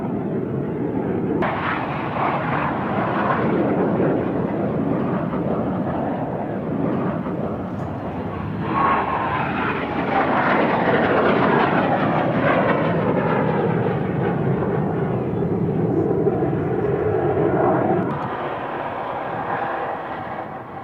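Strike Master export jet, developed from the Jet Provost trainer, flying at a British airshow in 1998; a loud, sustained jet roar with shifting pitch as it passes, no talk.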